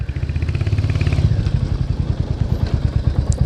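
A Royal Enfield Hunter 350 motorcycle engine runs loud and close, a steady thumping single-cylinder beat that quickens slightly as the revs rise.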